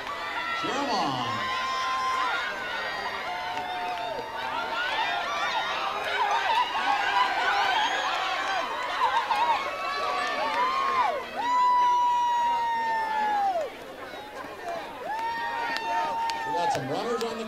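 Crowd at a pancake race cheering on runners, a sustained mix of shouting voices and whistles with rising and falling cheers, fairly loud and close, with an announcer speaking over it and a dip near the end.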